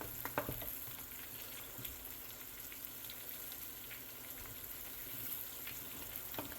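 Puerto Rican queso frito, cheese frying in hot oil, giving a faint, continuous sizzle with scattered small pops and spits throughout.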